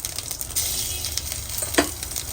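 Garlic sizzles in hot oil with cumin as it is stirred, a bright crackling hiss with soft scraping strokes and one sharp clink near the end, close and without talk.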